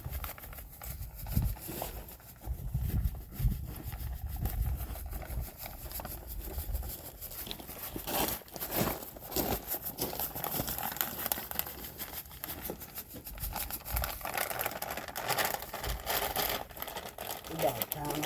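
Living soil mix poured from a resealable zip bag onto a pile, a steady granular crinkling and pattering rush close by, with plastic bag rustle throughout.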